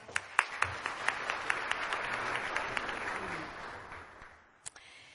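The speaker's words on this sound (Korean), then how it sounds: "여러분 다시 한번 박수 부탁드립니다" Audience applause at a forum opening ceremony, a brief burst of clapping that fades out over a few seconds, with a few sharp claps standing out near the start and one late clap.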